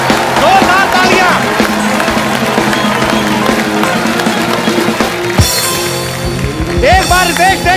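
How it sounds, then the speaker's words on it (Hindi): Studio audience applause on a comedy talk show, steady dense clapping mixed with cheering and background music, with voices over the top. "जोरदार तालियां।"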